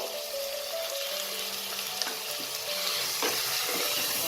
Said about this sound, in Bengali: এবার এটাকেও আমি কয়েক মিনিট একটু ফ্রাই করব যতক্ষণ না কিমার কালারটা চেঞ্জ হয়ে যাচ্ছে